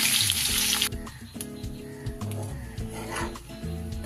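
Butter sizzling in hot oil with whole cardamom, cinnamon and cloves for butter paneer, a steady close crackle and hiss that flares brightly at first, then settles into a softer continuous fry.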